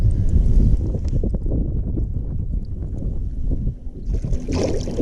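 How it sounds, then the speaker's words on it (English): Strong wind on open water buffets the microphone on a fishing boat, a loud, gusty roar with low thumps and splashy bursts that rise again near the end. "The wind's blowing out here, super windy"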